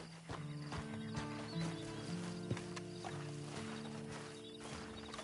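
Horse hooves clip-clop in an irregular walking rhythm in a PlayStation 4 Western video game, mid-distance and fairly faint, with a soft whinny, steady tonal in-game ambience and light mechanical clicks underneath.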